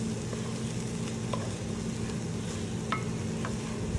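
Food stirred in butter in a high-sided pan holding plenty of ingredients; a steady, loud sizzle of frying runs throughout, with a few faint scrapes of the stirring utensil.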